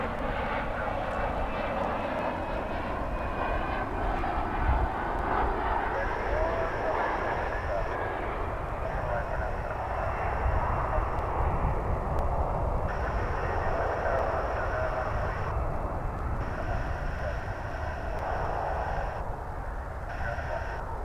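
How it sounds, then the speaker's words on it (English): An American Eagle airliner arriving from Monterey lands at DFW Airport, its jet engine producing a steady, sustained roar for about twenty seconds with high whining tones, heard from a distance. "This is American Eagle Flight 3515 coming in from Monterey."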